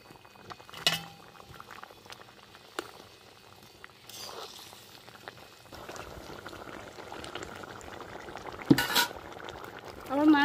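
A curry of fried tangra fish with taro (mankochu) and potato simmers in a pan, its broth bubbling softly and steadily up close. A few scattered utensil clinks land over it, and the bubbling grows a little busier toward the end.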